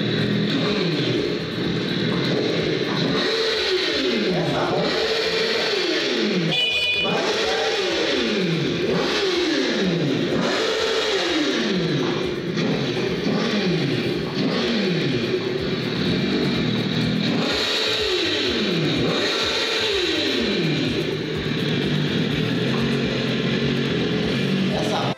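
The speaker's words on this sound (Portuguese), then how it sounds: "Olha só o ronco do motor da minha moto." A homemade motorcycle engine revs again and again, each rise and fall of the throttle clear, loud and close, with some short pauses between the bursts.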